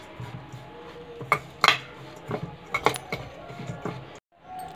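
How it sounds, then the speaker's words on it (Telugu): A spoon mixes homemade coconut powder with rose syrup in a bowl, giving a run of clinks and scrapes against the dish, close and fairly loud, with no talk. "ఇందులో రోజ్ సిరప్ వేసుకొని కలుపుకోవాలి."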